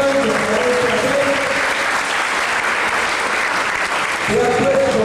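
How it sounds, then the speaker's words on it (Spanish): An audience at a 2007 bodybuilding contest in Honduras applauds loudly and continuously, a dense wash of clapping from a large crowd, with a voice over a loudspeaker briefly audible beneath it. "Yo les pido un fuerte aplauso para este atleta."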